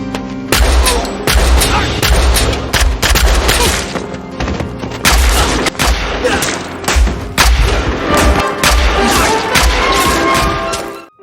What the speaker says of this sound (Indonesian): Meskipun Yuri harus tertembak di pundaknya, akan tetapi ia terus menyerang hingga dapat meratakan sebagian besar anak buah si kolonel